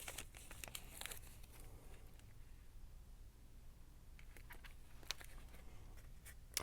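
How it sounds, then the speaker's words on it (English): Paper stickers are handled up close, with quiet crinkling and a few sharper rustles at the start and near the end, faint over a low background hum. "now I'm going to get my little stickers out"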